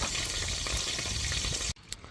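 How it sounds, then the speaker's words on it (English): Burgers frying on a camp stove at a state park campsite, a loud, close, continuous crackling sizzle that cuts off abruptly near the end, leaving a few faint pops and clicks. "I like the sound of that frying going on."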